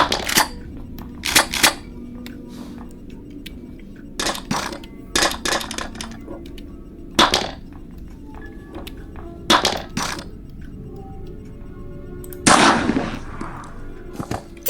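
Shotgun firing in the horror video game Granny: a string of sharp, loud blasts at uneven intervals, some in quick pairs, with a longer burst of noise near the end and game ambience between.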